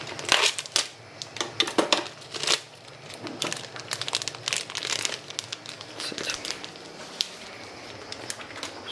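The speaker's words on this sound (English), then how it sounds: "Open the package." Plastic cheese package torn open in a kitchen, giving bursts of crisp crinkling and rustling at close range, louder at first and then scattered, with no talking.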